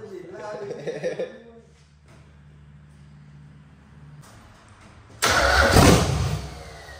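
Speech at first, then a quiet idle-like rumble, followed by a sudden loud burst of engine noise as a Chevrolet Camaro IROC-Z engine cranks and catches.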